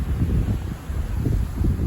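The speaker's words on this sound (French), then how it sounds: "Voilà, donc le vent." Gusty west wind blowing at up to 50-60 km/h on a cold, showery spring day, a continuous low roar buffeting the microphone with surging swells and brief dips, loud and close, with no voices.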